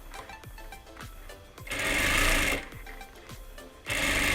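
Sewing machine stitching a zipper on a small case, with a rhythmic ticking of the mechanism between two loud buzzing bursts of fast stitching.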